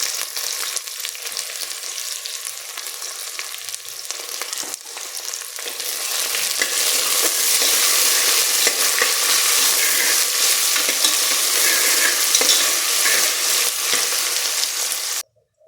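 Chopped onion and curry leaves sizzle in a pan while being stirred, a steady loud frying crackle that intensifies midway and continues unbroken until it stops abruptly near the end.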